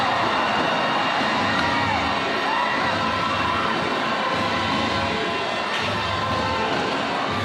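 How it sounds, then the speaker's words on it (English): A basketball crowd roars loudly and continuously at an MPBL regular season game between Zamboanga and Nueva Ecija, a dense arena wall of cheering and shouting that stays steady throughout. "The crowd is roaring."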